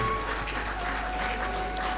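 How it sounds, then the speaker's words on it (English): Applause from an audience at a Ramakrishna Mission foundation day function, welcoming the chief guest, a retired justice; steady, fairly quiet clapping over a constant low hum, with no break for the full stretch. "Please a round of applause to see Justice Sri DVSS Swamiyajal Garu."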